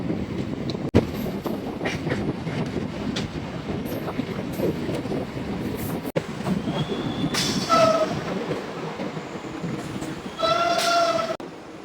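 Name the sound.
train arriving at Galsi railway station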